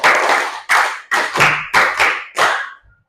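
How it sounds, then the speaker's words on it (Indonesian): A class of students claps in unison in a rhythmic counting game led by a teacher, with six loud group claps in a steady beat over a few seconds and a short pause before the final ones. "Tepuk 1, tepuk 2, tepuk 3, tepuk 4, tepuk 5 2 kali."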